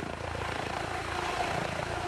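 A Comanche military helicopter flies steadily overhead, its rotor thumping and engine droning continuously at a fairly loud, even level throughout.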